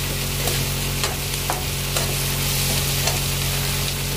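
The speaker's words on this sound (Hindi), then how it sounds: "प्याज भून लिए मैंने।" Onions fry in a pan on a gas stove with a steady loud sizzle, broken by a few sharp stirring scrapes and taps and no talk over it.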